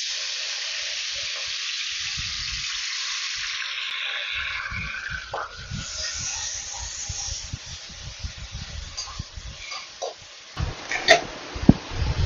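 Onion hits hot white oil in a pan and sets off a loud, crackling sizzle. The broad hiss softens over time as rough stirring and scraping thumps take over, with a few sharp clatters near the end.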